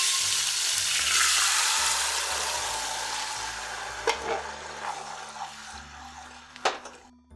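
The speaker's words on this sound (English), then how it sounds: "so we'll put the spices in first, integrate that a little bit, and then add the tomato" Marinara with spices and tomato frying in a pan, a loud broad sizzle that slowly fades, followed by a few sharp utensil knocks against the pan, close up with no talking.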